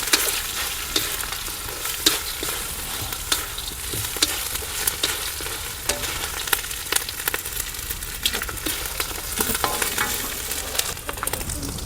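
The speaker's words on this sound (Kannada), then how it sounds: "ಸ್ವಲ್ಪ ಇದು ಕೊಬ್ಬರಿ, ಹಸಿಕಾಯಿ ತುರಿದು, ಇದನ್ನೆಲ್ಲ ಸ್ವಲ್ಪ ಚೆನ್ನಾಗಿ ಫ್ರೈ ಮಾಡ್ಕೊಂಬಿಡೋಣ." Grated fresh coconut fries in a pan for lemon rice, a steady sizzle broken by frequent scraping clicks of a spatula stirring it, close and without talk.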